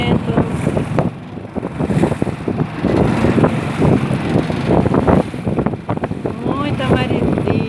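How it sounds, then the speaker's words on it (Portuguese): Strong wind buffets a small boat crossing choppy, agitated river water, powered by an outboard 'rabeta' motor; a steady roar of gusts and splashing continues throughout, with a voice talking over it. "Muito vento."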